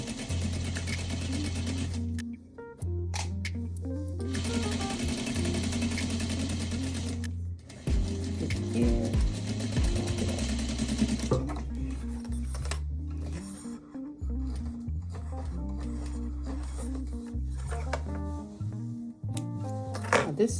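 A sewing machine stitching a mini zippered pouch, running in long continuous bursts with short pauses between seams, close and fairly loud.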